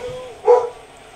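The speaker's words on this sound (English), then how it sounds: "So, guys, that was my dog." A pet dog gives one short, loud bark close by, set against a quiet room.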